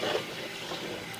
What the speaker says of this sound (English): Somebody did flush the toilet